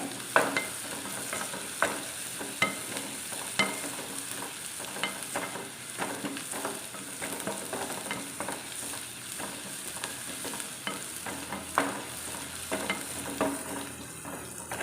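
Onion and garlic frying in oil in a pan, with a steady sizzle throughout and repeated scraping stirs at irregular intervals, close and moderately loud.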